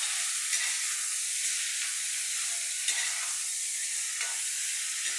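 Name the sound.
ridge gourd peel sautéing in a pan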